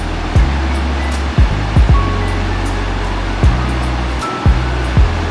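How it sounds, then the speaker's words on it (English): Raging torrent of the monsoon-swollen Trisuli River in Nepal, a loud, constant roaring rush of water with wind buffeting and occasional low thuds throughout. "we have a spectacular view of the raging torrent of Trisuli River"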